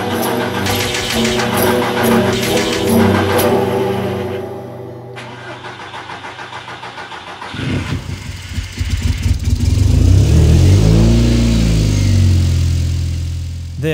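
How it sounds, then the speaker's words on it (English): A big-turbo Audi TT engine starts and runs after its first start, a loud, close, steady idle that swells into a deeper, rougher rumble partway through, with no talk. "Not only was the car running,"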